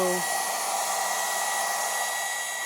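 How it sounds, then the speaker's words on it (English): A hair dryer blows steadily over poured acrylic paint on a canvas, a continuous close whoosh that starts abruptly and holds at even strength. "I take the blow dryer and I move it around"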